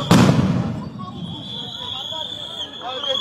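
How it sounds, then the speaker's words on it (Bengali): A sound grenade bursts with one loud, sharp bang as police disperse protesters near a parliament building, then echoes and fades. A thin high tone and crowd noise continue after the blast. "বারবার সাউন্ড গ্রেনেড নিক্ষেপ করে কিন্তু তাদেরকে সরিয়ে দেওয়ার চেষ্টা করা হচ্ছে"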